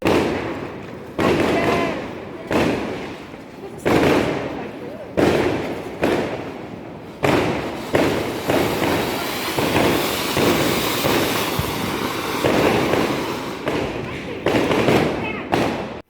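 Diwali firecrackers and fireworks set off outdoors at an apartment block, a run of loud sharp bangs every second or so with crackling bursts between, and voices talking in the background.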